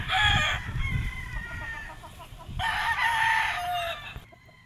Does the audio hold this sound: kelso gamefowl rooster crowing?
yes